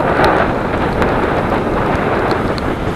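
Rain during a motorcycle ride makes a dense, steady hiss mixed with buffeting wind roar, loud and unbroken, with a few faint drop ticks.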